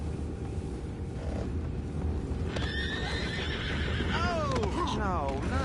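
Horses in Red Dead Redemption 2 whinny in a rising, wavering cry near the end, over steady clip-clopping hooves and outdoor ambience, with faint voices in the background.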